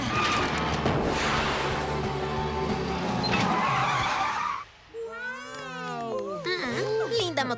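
In a cartoon, a scooter skids with a loud, screeching tire squeal that cuts off suddenly, followed by wavering animated voices.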